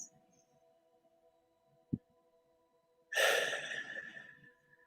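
One slow, deep breath taken close up begins about two-thirds of the way through and fades gradually, after near-silence with a faint steady hum and a single soft click.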